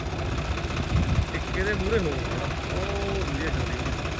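A farm machine's engine drones steadily in an open field with a tractor nearby, a continuous low rumble that runs under someone speaking and counting aloud.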